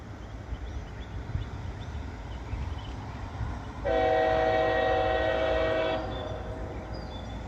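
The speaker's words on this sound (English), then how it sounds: "Got another train coming." A freight train rolls through Abbeville with low rumbling wheels and track noise, then sounds a loud, sustained multi-tone horn for about two seconds before the rumble carries on.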